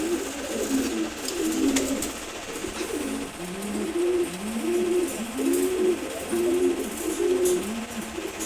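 A pair of racer pigeons coos steadily and close by. The soft, throaty coos repeat in overlapping phrases over a faint background hiss.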